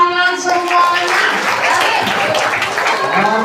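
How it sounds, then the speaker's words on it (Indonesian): Children in the audience at an Islamic storytelling session clap continuously as a loud, dense patter, with a voice speaking over the opening moment. "tepuk tangan semuanya"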